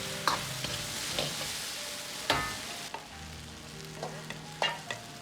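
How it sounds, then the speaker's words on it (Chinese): Green beans, potatoes and sliced red chili peppers sizzle steadily in a wok while a ladle scrapes and clacks against the metal, tossing the vegetables in a few sharp strokes. "接着倒入切好的美人椒，翻炒均匀"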